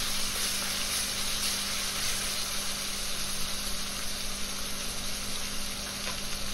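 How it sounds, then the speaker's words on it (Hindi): Green beans slow-frying in oil over a full gas flame, a steady, dense sizzle with constant loudness throughout, close and unbroken, with no voices. "को स्लो फ्राई करना है तेल में, गैस का फ्लेम फुल रखें।"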